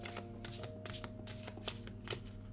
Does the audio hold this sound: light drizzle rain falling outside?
no